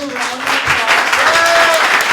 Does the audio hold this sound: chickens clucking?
no